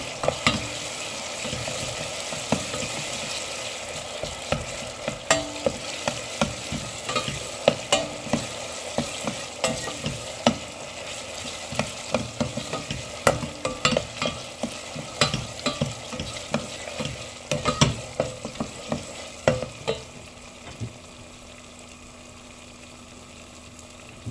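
Tomato paste frying with browned onions for a green lentil and noodle soup, a continuous soft sizzle broken by repeated sharp spoon scrapes and taps as it is stirred, ending in quieter frying.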